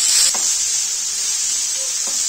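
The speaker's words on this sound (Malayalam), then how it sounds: "ഇനി ഇതിലോട്ട് സവാള ഇട്ട് കൊടുക്കുക." Sliced onions dropped into hot oil with mustard seeds for fish balls, giving a continuous close bright hiss and sizzle, loudest at the start, with a few faint pops and no talk.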